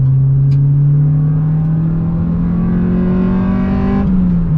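A single-cam car engine accelerates steadily while driving with the windows up, its loud, close drone rising smoothly in pitch over several seconds with no voices.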